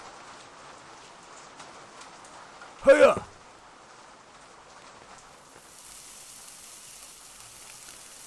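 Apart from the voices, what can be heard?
rain falling in a video game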